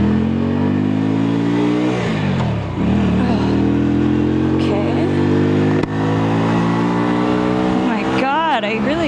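A cruiser motorcycle engine revs and pulls away nearby, its loud rising harmonics climbing through each gear, with a brief dip around the shift and a higher whine near the end.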